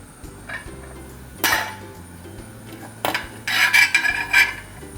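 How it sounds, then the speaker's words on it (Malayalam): Marinated chicken for homemade KFC-style fried chicken being set into a heated idli steamer pot: a few distinct metal clanks and scrapes of vessels, close and sparse, with quiet gaps between. "ഞാനിവിടെ ഇഡ്ഡലി പാത്രം ചൂടാക്കാൻ വെച്ചിട്ടുണ്ട്. അതിലേക്ക് നമുക്കിത് ഇറക്കി വെച്ച് കൊടുക്കാം."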